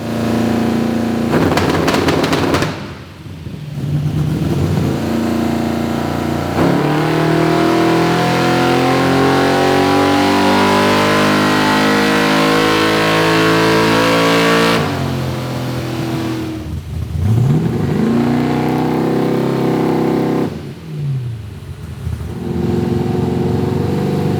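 A loud car engine revs hard on a dyno, climbing repeatedly through sweeping pitch runs, with brief drops between pulls.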